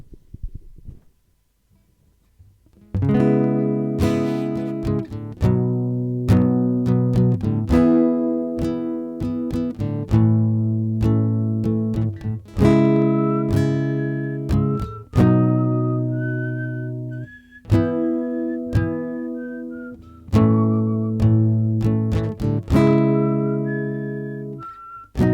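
A person whistles a melodic tune over strummed guitar chords; clear, close whistled notes rise above rhythmic strums with short pauses between phrases.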